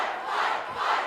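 Wrestling crowd roaring and cheering at a Juggalo Championship Wrestling event, a loud sustained mass of voices swelling twice within about a second.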